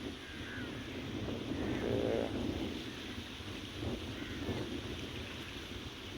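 The flooded Beas river rushes past in a broad, continuous roar of fast water, mixed with gusty wind buffeting close by; no voices are heard.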